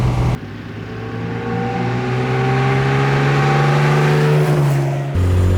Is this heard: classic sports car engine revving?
yes